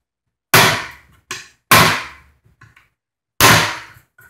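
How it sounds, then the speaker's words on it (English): A chisel is struck hard to knock the wet end off a Franklin Electric Waterway Executive 56 pump, four sharp metallic hammer blows with ringing decay, close and loud, separated by short pauses, no talk. "I'm just going to take my chisel and pop off the wet end"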